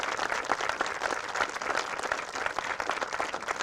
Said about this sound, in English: I wanted to give them a round of applause.